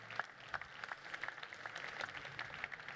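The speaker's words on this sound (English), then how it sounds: "can we start off by giving everybody, our three panelists, a very warm round of applause" Faint, distant applause from a room of listeners for three panelists at a talk on patronage in radical architecture and design, a soft uneven patter of claps that continues at low level.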